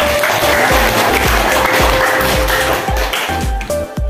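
A classroom full of people applauds together, a dense and loud burst of clapping that stays steady for about four seconds and eases slightly at the end.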